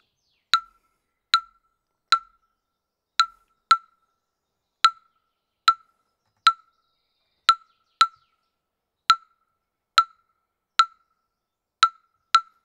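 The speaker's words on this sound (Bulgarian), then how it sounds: "3-2 сон клаве, което звучи така." Wooden claves play a 3-2 son clave rhythm, sharp dry clicks in repeating groups of three then two, close and clear against silence, cycling several times.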